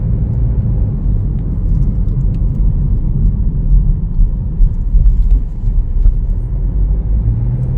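Cabin of a 2025 Chevrolet Trailblazer FWD LT cruising with its small turbocharged three-cylinder engine, a continuous low road-and-engine rumble with muffled tire noise, steady and moderately loud throughout, no talk.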